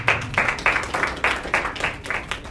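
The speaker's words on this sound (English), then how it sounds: "A round of applause once again, please." Rhythmic clapping from an audience at an African entrepreneurship event, a moderate, evenly spaced series of claps heard alone without talk.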